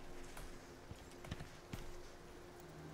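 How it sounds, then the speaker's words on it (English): A horse in the survival game Icarus clip-clops faintly in the distance, giving a few scattered, soft hoof knocks over a low steady background hiss. "I did hear a horse as well, though."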